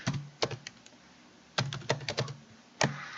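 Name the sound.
typing on a computer keyboard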